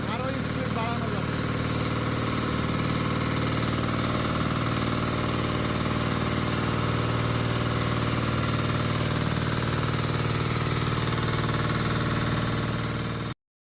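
A shallow-pump high-pressure car washer engine runs at a steady, loud drone for the whole stretch, with a continuous hum and rattling vibration and no pauses, then cuts off abruptly at the end.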